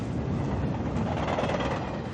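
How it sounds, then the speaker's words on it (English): A distant train picked up by a directional microphone, a continuous low rumble with faint rhythmic clatter, steady and far off with no voices. "or a train up there."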